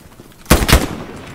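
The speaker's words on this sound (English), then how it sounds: "Shot." Two loud close gunshots in the World War II shooter Hell Let Loose, sharp cracks in quick succession about a quarter second apart, fading into quiet.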